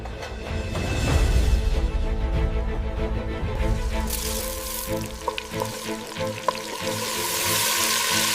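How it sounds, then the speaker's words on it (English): Meat sizzling in a hot pot while cooking Somali bariis iskukaris, a steady crackling fry with some stirring and clinking, no voices. "Add meat. Mix well. Let it cook to perfection."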